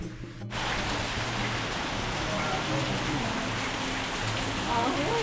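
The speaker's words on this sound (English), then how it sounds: "It's raining so much." Heavy rain pours steadily in Costa Rica, a dense, continuous hiss that stays loud and close for the whole stretch with no voices over it.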